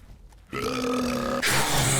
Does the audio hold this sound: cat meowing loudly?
no